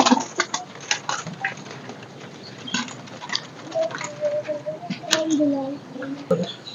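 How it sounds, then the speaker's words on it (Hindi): A Royal Teddy breed pigeon coos in low, soft murmurs close by, while someone talks throughout and faint pattering and rustling sounds come and go. "रॉयल टेडी कबूतर है"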